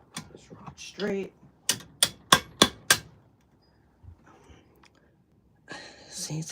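Five sharp metallic hammer blows on a metal rod while working on a Subaru crankshaft area, evenly spaced and close, with quiet muttering before and after.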